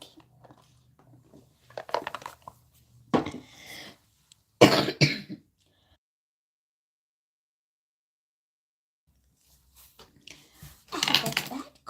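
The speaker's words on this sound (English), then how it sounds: "I have a bad cough." Several harsh coughs from one person at close range, coming in separate bursts with quiet gaps between them and a short rough spell at the end.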